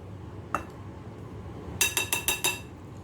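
A metal spoon clinks against a bowl while custard powder is added, one clear tap followed by a quick run of five bright ringing clinks, close and isolated.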